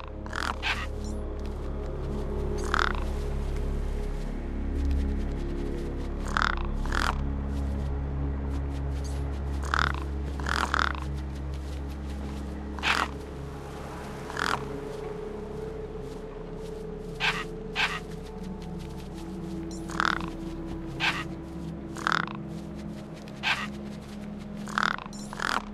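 Gang birds caw repeatedly in the video game Beyond a Steel Sky, sharp calls recurring in irregular bursts over a steady low ambient hum, fairly close and moderately loud.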